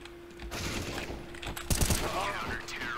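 Gunfire in the Counter-Strike video game: a short burst of shots rings out in the middle, over steady game noise with a constant hum, and no one talks.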